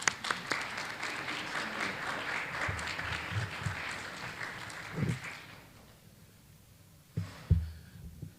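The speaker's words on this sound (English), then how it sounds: "Please join me in welcoming Pastor Richard Williams." Audience applause welcoming a pastor to the stage at a morning civil rights speaker series, a steady wash of many hands clapping for about five seconds, then fading out with a few scattered claps and thumps near the end.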